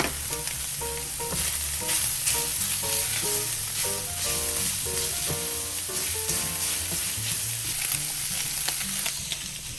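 Shaved steak and onions for Philly cheesesteak sliders sizzle steadily in a hot pan, a continuous loud frying hiss with a music bed playing underneath.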